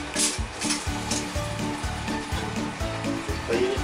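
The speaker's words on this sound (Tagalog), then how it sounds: "So ngayon, piprito na natin yun." Beef pata sizzles in hot oil as it deep-fries for crispy pata, a loud, close, continuous crackling hiss with pulsing bubbling beneath it and no talking.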